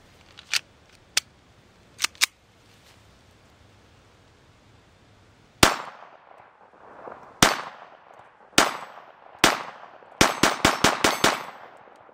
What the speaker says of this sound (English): with the uh, steel, you get that instant feedback with the noise